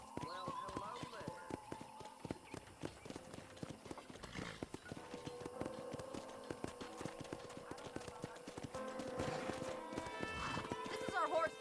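Horses in a corral in the Red Dead Redemption video game: hooves clip-clop and a horse whinnies, with some clattering and thumps, mostly heard under people talking.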